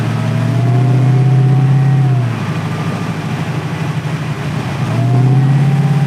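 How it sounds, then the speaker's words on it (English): A 1,000-plus horsepower 1962 Chevrolet Impala on air bags revs hard, its deep engine note swelling, easing back, then climbing again, loud and close from inside the car. "You just tap the throttle and go"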